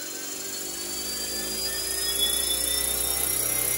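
A Fly Wing FW450 V2 RC helicopter hovers indoors in GPS mode, its rotor and motor producing a steady high-pitched whine and whir that swells slightly louder as throttle rises, with no talk over it.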